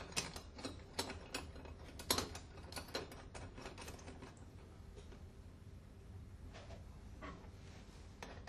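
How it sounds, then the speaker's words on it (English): Clamp tightened on the upper valve body of an Alfa Laval separator's valve actuator: quiet, irregular metallic ratcheting clicks and small knocks at close range, with a few sharper taps early on against a low background hum. "Fit the upper clamp and tighten."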